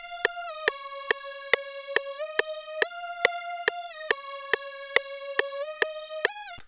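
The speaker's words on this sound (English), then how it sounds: "Then I have this lead sound right here, which basically just follows notes of the chord progression." Bright, buzzy synth lead tracing notes of a trap chord progression for a beat, stepping through sustained pitches while crisp percussive ticks land at a steady pulse, clear and upfront with no talking.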